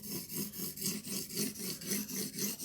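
A knife blade is re-profiled on a TSPROF Blitz 360 guided sharpener with matrix stones: about half a dozen steady, rhythmic back-and-forth abrasive strokes of stone on steel, close and fairly loud, with no talking.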